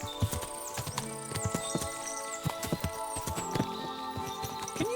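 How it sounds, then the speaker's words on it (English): Horses clip-clop on a road in the medieval video game Kingdom Come: Deliverance II, with steady hoofbeats layered over busy game ambience and occasional louder hoof strikes. "What a lot of horses!"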